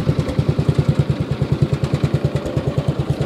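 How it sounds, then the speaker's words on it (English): An old Craftsman riding mower's dirt-covered engine runs close by at a steady idle, its rapid, even thumping pulses loud and regular throughout. "the engine needs to be degreased, but it sounds really good"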